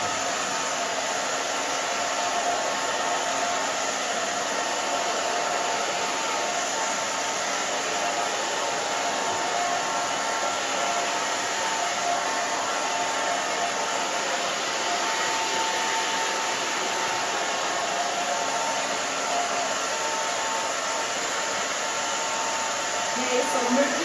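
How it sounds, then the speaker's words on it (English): A handheld blow dryer roars steadily while drying hair during a bob and pixie haircut, an even, breathy whoosh holding for over twenty seconds close to the listener. "move your blow dryer and your hands back and forth."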